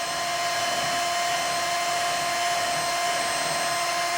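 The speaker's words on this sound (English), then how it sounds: "Now I want to go ahead here and drill a hole." A high-pitched power drill whines steadily and continuously, close by, with no pauses or talk.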